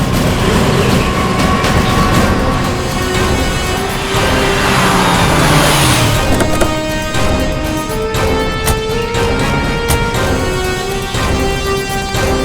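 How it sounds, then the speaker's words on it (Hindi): A car that has gone off the road revs and pulls back, its engine loud and close with a rising, straining drone and shifting tones, steady throughout with no talk over it. "गाड़ी रास्ते से नीचे उतर गई है, जरा पीछे लो।"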